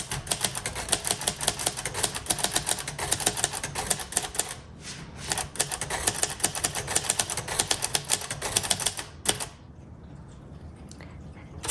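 Rapid keystrokes clack on a 1957 Royal Quiet Deluxe typewriter, a dense, loud, close run of sharp strikes with brief pauses, then a quieter stretch near the end.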